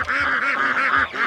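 Free-range poultry on a mixed farm at feeding time give loud, close, repeated honking calls in a rapid rhythmic series.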